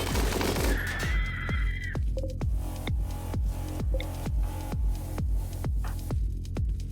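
Automated turrets firing in RimWorld during a colony defense, a steady volley of sharp gunshots repeating about twice a second, loud and close, with a brief whining tone early on.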